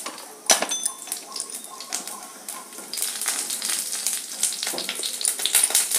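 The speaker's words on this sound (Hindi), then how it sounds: "अब डालेंगे जीरा" Cumin seeds sizzle in hot ghee after two whole dried red chillies go into the pan, a sudden burst of crackling that settles into a steady close hiss with faint clinks.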